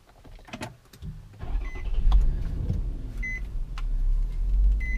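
A 2008 Infiniti EX35 Journey AWD with 134,000 miles starts by push button: a few electronic chimes and clicks, then the engine cranks and catches into a low, steady idle close by.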